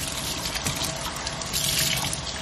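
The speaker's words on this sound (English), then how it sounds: "I'm going to rinse this out because I still use this for my crystals cup." Water runs steadily from a kitchen faucet into a sink while a cup is rinsed out, a close, continuous splashing rush with no talking.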